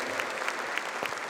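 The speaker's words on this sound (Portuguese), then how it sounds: "Uma salva de palmas à palavra de Deus" A church congregation claps in applause after the Gospel reading during a novena homily, a short, even burst of many hands.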